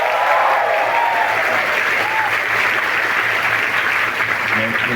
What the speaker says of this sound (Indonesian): boleh minta tepuk tangan teman-teman.